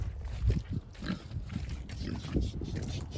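Several pigs grunt and oink close by while being herded across a farm to a dry winter shelter, irregular short grunts with some rustling, no clear speech over them.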